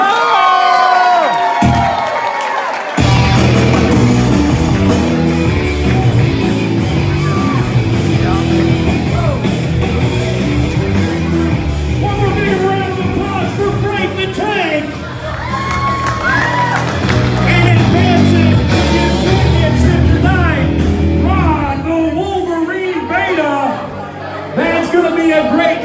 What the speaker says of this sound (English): How about a big round of applause for both these contestants tonight?